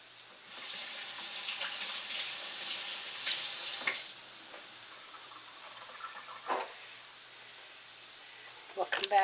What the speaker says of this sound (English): Now I'm going to rinse my hands off.